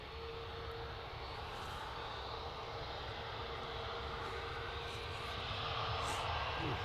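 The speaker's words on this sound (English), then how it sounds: "Air Transat, just about to touch down on 23 right." An Air Transat airliner touches down on runway 23 right at Manchester Airport in the early morning, its engines a steady broadband roar that swells slightly toward the end, with no talk over it.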